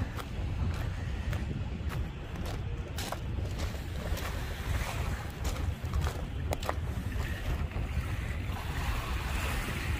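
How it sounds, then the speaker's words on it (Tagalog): Waves wash in constantly along the Manila Bay shore, with wind rumbling across the microphone and occasional sharper splashes, a loud continuous outdoor roar with no talk. "So, may pag-alon, pataas na yung tubig."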